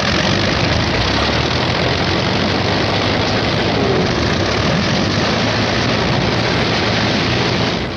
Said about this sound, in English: Out on the line, General Moore's P-51s are warming up for the longest fighter flight on record.